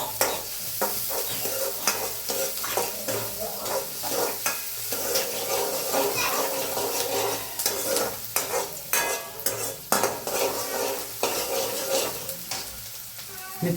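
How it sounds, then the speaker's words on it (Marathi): Onion fries in a hot pan with steady sizzling, while a utensil stirs it in repeated scraping strokes close by, with no voices. "कांदा चांगला लाल होईपर्यंत भाजून घ्यायचा बरं का."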